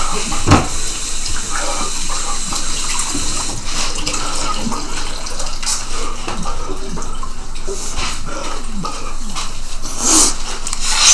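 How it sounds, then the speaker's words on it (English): Water runs steadily from a tap as hands are washed beneath it, a loud continuous splashing hiss filling the whole stretch with small clatters and shifts in the flow. "Let me wash my hands."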